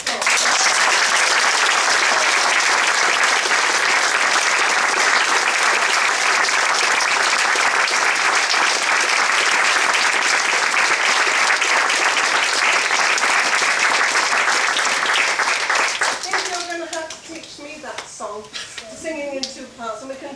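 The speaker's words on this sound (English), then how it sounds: "I think I'll give you all one more big round of applause." Children in an audience applauding, a loud, dense, steady wash of clapping that runs for several seconds before thinning out into scattered claps and young voices.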